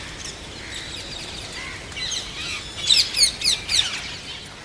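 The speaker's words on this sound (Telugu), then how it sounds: "రామచిలుకలు పావురాలు వచ్చి సందడి చేస్తున్నాయి." Hundreds of rose-ringed parakeets and pigeons gathering at a house rooftop garden in Visakhapatnam: light chirps at first, then a run of four loud, shrill screeches in quick succession near the end.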